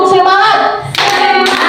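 Brisk rhythmic hand clapping from a group in a classroom clapping cheer, loud and close, with voices chanting along over the claps.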